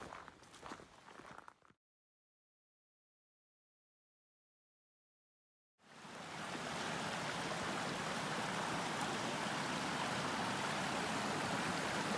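A creek flowing along a trail through old growth forest at Rockport State Park, Washington: a steady, full rushing-water wash that fades in after a silent gap, preceded by a brief stretch of rustling.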